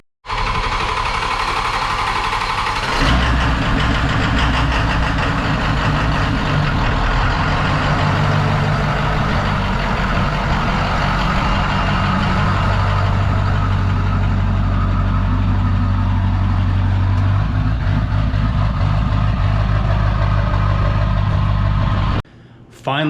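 A 7.3 diesel in an OBS Ford truck starts and then idles with a loud, steady, rattling clatter close by for about twenty seconds, cutting off abruptly near the end.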